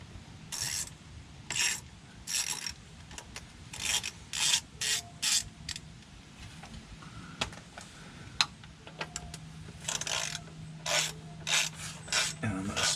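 A ratchet loosens a transmission pan bolt on a 1998 Chevy Silverado K1500, sounding as repeated quiet bursts of rasping clicks, close and alone with a low background hum.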